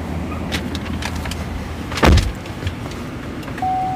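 A 2018 GMC Yukon SLT sunroof motor whirs steadily inside the cabin, with a brief thump partway through and a short higher whine near the end.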